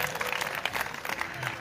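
A crowd claps and applauds steadily for a moment, dense and continuous, with a voice faintly mixed into the noise, at a comedy show.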